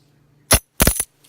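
Standing Liberty silver quarters drop into a holder in two quick bursts, a single bright clink and then a short cluster of ringing metallic taps, close and clear with no talking.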